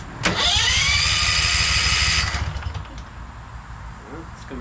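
Small engine with a governor cranks and catches, running loudly at a steady low idle for about two seconds without revving up, then dies away into quiet background.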